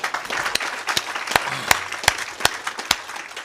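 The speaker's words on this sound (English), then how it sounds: "give a big hand of applause to Uldis" A live audience at a tech startup event applauds a startup founder, with scattered individual claps standing out over a light, fairly quiet patter of applause.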